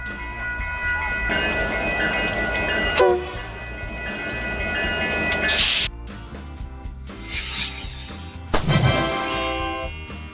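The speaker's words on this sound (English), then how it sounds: "snowplow trains use giant plows to clear tracks during winter" A snowplow train with a giant plow runs along the tracks, a rumbling roll broken by sharp mechanical clanks and a horn-like tone near the end.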